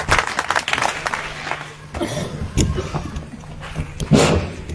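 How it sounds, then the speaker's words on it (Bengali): Applause from the audience at a BNP ward political meeting in Sylhet, a brief, uneven burst of clapping mixed with crowd murmur and some talking, moderately loud. "আমরা ওনার জন্য সবাই মিলে একটা করতালি দেই।"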